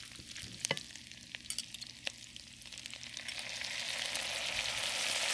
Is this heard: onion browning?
yes